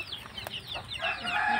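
Chickens cluck and squawk close by at a Burmese and Mangon chicken farm in Cianjur, West Java, a short burst of busy fowl calls rising toward the end.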